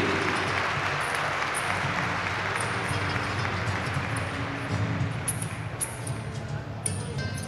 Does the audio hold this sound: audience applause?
yes